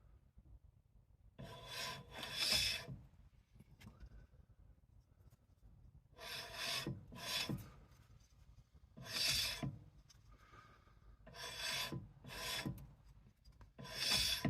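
A car brake rotor spun by hand gives several faint, separate scraping rasps in irregular bursts with quiet gaps between them and no talk.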